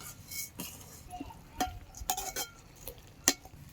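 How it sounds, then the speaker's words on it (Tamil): Semiya kichadi being stirred in a pot, with a few scattered spoon scrapes and light clinks against the metal over a faint background, with no voice. "கிளறி விட்டுக்கலாம்."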